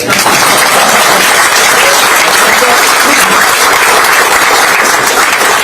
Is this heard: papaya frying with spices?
no